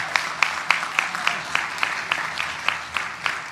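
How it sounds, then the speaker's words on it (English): Audience applause at Greylock's 90th annual meeting comes as a run of evenly spaced claps at a moderate distance, steady in rhythm throughout. "Big round of applause for all of them."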